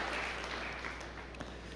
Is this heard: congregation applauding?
yes